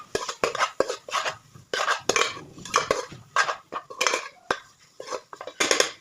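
A metal spoon scraping and clanking against a pot while stirring spiced food with home-made masala, in rapid irregular strokes, close and loud, with no talk.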